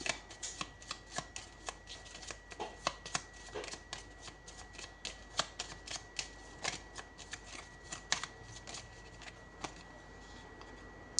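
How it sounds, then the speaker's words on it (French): A deck of tarot cards is shuffled and laid down, giving a quiet run of close riffling and sharp flicking snaps, repeated at an uneven pace. "on va poser une carte pour chaque énergie"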